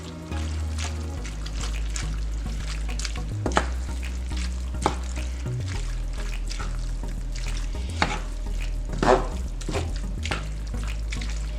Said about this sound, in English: add the noodles that you made earlier to the dish and just go ahead and mix it in